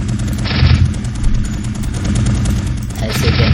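Rapid gunfire from the player's weapon in an Unreal Engine shooter, loud and dense for the whole stretch, with bursts of sharper cracks near the start and the end.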